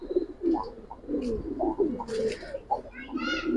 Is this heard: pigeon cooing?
yes